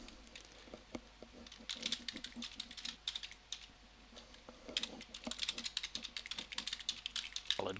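Close, quiet typing on a computer keyboard, a brisk irregular run of light key clicks with brief pauses, then quicker bursts toward the end.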